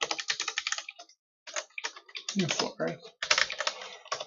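Fingers type on a computer keyboard, producing close, rapid clatter with a brief pause in the middle, while a voice speaks briefly over the keystrokes.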